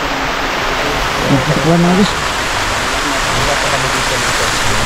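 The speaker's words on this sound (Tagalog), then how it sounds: "So, umulan pa naman, umulan pa." Steady, dense rain falls outdoors at night, a constant loud hiss filling the background while someone speaks briefly over it.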